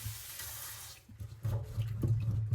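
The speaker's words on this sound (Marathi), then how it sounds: "आता आपण बटाट्याला पहिले धुवून घेऊ छानपैकी." Potatoes are rinsed under running water from a tap in a sink: a brief steady stream gives way to choppy splashing and sloshing as the potatoes are handled, close and fairly quiet.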